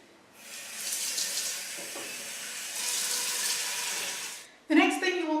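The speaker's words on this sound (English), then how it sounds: "get a big old pot and we're going to fill it with" Tap water runs steadily into a big cooking pot for a boiled Scottish clootie dumpling, a broad even rush lasting several seconds before the flow stops, then a brief voice.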